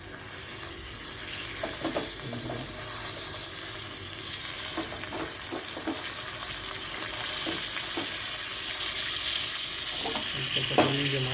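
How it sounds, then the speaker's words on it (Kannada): Raisins fry in a hot small pan for carrot halwa, giving a steady broadband sizzle for the whole stretch, with occasional scraping stir clicks and a brief louder clatter near the end; no talking. "ಈಗ ಇದು ಸಣ್ಣ ಪಾನಲ್ಲಿಟ್ಟು ಇದು ಬಿಸಿ ಆದಮೇಲೆ ಈ ದ್ರಾಕ್ಷಿನ ಇಲ್ಲಿ ಹುರ್ಕೊಂಬಿಡೋಣ"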